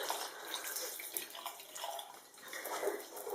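Warm water runs steadily from a tap to wet a silicone brush-cleaning glove, a soft continuous splashing hiss with no talking.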